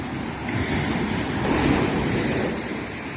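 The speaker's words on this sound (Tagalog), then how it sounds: "Malakas na yung alon." Strong ocean waves surge and wash onto the beach at high tide in the early morning, making a continuous loud roar that swells slightly in the middle, with no voices.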